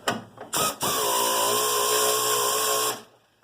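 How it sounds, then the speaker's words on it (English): A power driver runs screws in ahead of time during a starter solenoid swap: two short bursts of a high whirring motor, then one steady whine lasting about two seconds before it cuts off, close and loud with no talking. "we're going to run these screws in ahead of time to make sure they go in"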